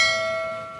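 A single notification bell sound effect rings out with a clear metallic tone that fades over under a second, heard alone.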